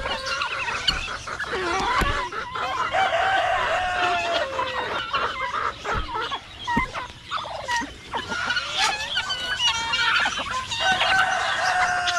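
Poultry fill the yard: hens cluck and squawk continuously while a rooster crows loudly several times, close by, with sharp calls overlapping throughout.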